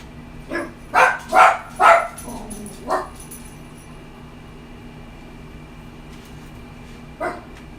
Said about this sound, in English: So my dog is acting up.